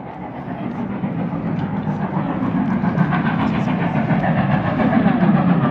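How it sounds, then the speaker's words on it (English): A steam train hauls Great Western carriages along the coast near Torquay and Paignton, a steady rumbling roll with rhythmic rail clatter growing gradually louder as it approaches, no talking. "is a steam engine carrying some Great Western carriages"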